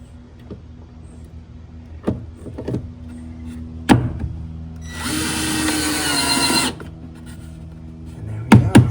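A power drill drives a 4x40 mm screw into a barrel sauna floor, a steady close whir lasting under two seconds, set between sharp knocks and handling clatter.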